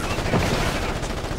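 Continuous dense gunfire in the tactical shooter Ghost Recon Advanced Warfighter 2, a loud sustained burst of rapid shots with no pause, close and unbroken.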